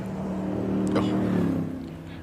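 A classic car with a 500-horsepower 5.8-litre engine races at a hill climb, its engine droning and rising as it passes, while a commentator talks over it.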